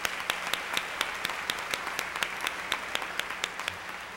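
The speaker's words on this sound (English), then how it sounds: "Round of applause for them." An audience applauds at the 20th annual EVVY Awards ceremony, sustained moderate clapping from many hands with sharper individual claps standing out, no talking over it.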